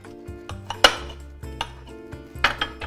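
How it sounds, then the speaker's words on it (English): A knife cuts through a lemon on a board, with a few sharp clinking knocks of blade against board or dish standing out over faint kitchen background, no talking. "we're just gonna slice up the lemon in half"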